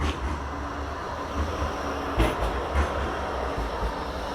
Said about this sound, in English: I let the tram trundle past.